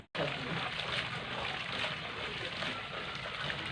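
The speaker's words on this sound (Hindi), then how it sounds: "अभी ये गर्म पानी भी डाल रहे हैं इसमें।" Hot water poured into a large pot of degi chana mewa pulao, a steady splashing, trickling pour that starts abruptly and runs on close and continuous.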